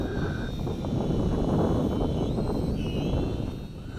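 A small Syma X5C-clone FY326 Q7 quadcopter yaws at its maximum rate outdoors in wind, giving a steady, close, high-pitched motor whine over broadband buzzing that shifts slightly in pitch partway through.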